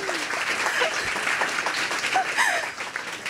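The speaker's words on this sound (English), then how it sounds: "So let's give them a round of applause." Steady applause from a crowd at a tech bootcamp graduation party for the graduating women, full and continuous at moderate loudness, with a few voices and whoops rising above it.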